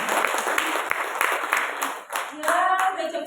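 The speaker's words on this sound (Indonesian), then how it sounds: "Boleh tepuk tangannya untuk kita semua." Audience at a parenting talk clapping in a steady run of hand claps, fairly close and moderately loud, with a voice briefly rising over the applause near the end.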